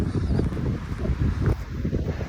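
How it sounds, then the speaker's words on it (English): Strong gusty wind buffets the microphone on a coastal footpath along the South West coast near Looe, a loud continuous low roar with rumbling pulses and no voices. "This wind really has got up now"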